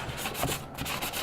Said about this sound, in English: I'm almost done with sanding the cape